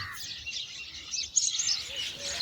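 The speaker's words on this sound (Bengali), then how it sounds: "ভেসে আসে রকমারি পাখির শব্দ" Several birds chirp and tweet in quick, overlapping high calls against a faint, low outdoor background, with no voices.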